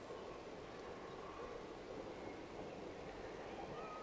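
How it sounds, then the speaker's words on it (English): A steady, broad rumble of a train crossing a viaduct at Calstock at a distance, continuous and even throughout with no voices. "I can hear a train."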